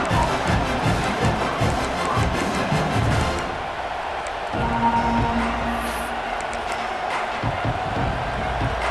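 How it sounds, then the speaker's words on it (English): A large college football stadium crowd roars with cheers and a sustained wall of noise during a game between Oklahoma and South Carolina, loud and continuous throughout. "This crowd ready to make its presence known."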